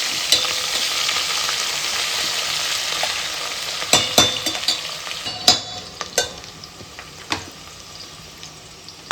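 Onions sizzle steadily in a hot pan for veg pulao, a close, dense hiss with occasional sharp scrapes and clinks of a spoon stirring through them, no voices.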